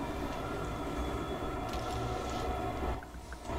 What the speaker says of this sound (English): Wait, we gotta wait for the train to stop.